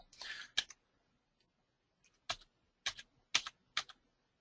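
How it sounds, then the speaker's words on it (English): Arrow keys tapped on a computer keyboard while working in an Excel table: a short burst of clicks followed by four or five crisp, evenly spaced single key presses, close and isolated in a quiet room. "you can just navigate this with your arrow keys on your keyboard"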